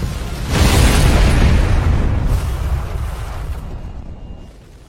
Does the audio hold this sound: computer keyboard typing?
no